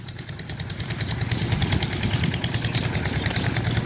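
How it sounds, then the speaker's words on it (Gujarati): Several irrigation pump engines run steadily at once in a castor field, a low chugging drone with a rough rhythmic pulse, fairly close and continuous throughout. "અહીંયા પણ મશીનો ચાલુ છે જુઓ"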